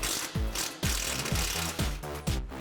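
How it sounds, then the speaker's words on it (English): A T40 ratchet turning out the bolt that holds the brake line to the vehicle frame, a quick run of repeated clicking strokes with a metallic ring, close and clear with no talking. "We'll remove this bolt."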